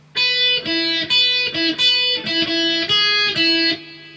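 Distorted electric guitar riff, punchy palm-muted chord chunks in a driving, slightly syncopated rhythm with brief gaps; loud and close, no talking.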